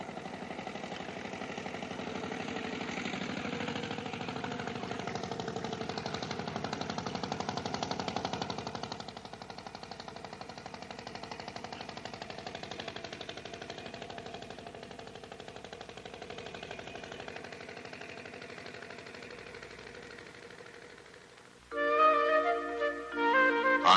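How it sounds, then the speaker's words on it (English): Rice transplanting machines at work in flooded paddy fields in Japan, a steady mechanical engine drone with clattering rhythm running throughout, then a sharper, louder tonal burst near the end. "Much of the back-breaking labor of planting rice seedlings by hand is now being accomplished by efficient machines."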